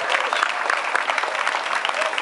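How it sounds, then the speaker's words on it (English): An audience applauds for an outstanding farmer at a 50th anniversary event, a dense burst of steady clapping from a crowd that holds throughout. "So let's all give Mario another big round of applause and recognize his great contribution."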